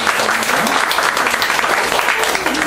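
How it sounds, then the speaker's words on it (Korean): A church congregation gives a loud round of applause to welcome a young guest visiting the worship service, dense clapping sustained throughout with a faint voice running beneath it. "우리 크게 박수로 환영하겠습니다."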